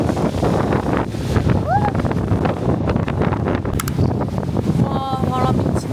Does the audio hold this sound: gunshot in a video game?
no